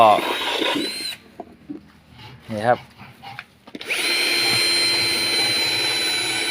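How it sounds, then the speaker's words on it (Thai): A power drill bores into a coconut shell as children make a lamp from scrap materials, a steady whining grind that runs loud, breaks off while someone speaks briefly, then resumes and holds. "เด็กก็กำลังเจาะนะครับ เจาะกะลานะครับ ดอกกระลามะพร้าวนะครับ"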